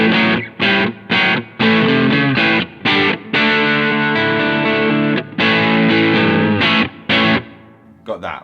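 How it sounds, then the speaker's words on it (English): An electric guitar plays through a Hamstead Ascent boost feeding an Ultraphonics overdrive pedal, giving loud, gritty chords and riffs in choppy bursts with short gaps. The last chord rings out and fades. "this is the Ascent going into a Ultraphonics overdrive pedal"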